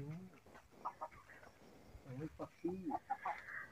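Farm chickens clucking close by while leftover rice is fed to them, a few soft irregular clucks and calls, quiet and partly under a woman's speech.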